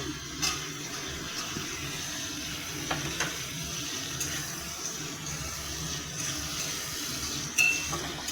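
Chickpeas go into a pan of fried spices and cook with a soft, low sizzle and occasional stirring clicks, fairly quiet and with no talk.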